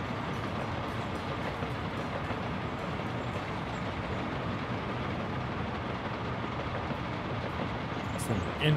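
A train rolls along in the Workers & Resources: Soviet Republic video game, a continuous steady rumble of wagons with faint clicking, unchanged in loudness throughout.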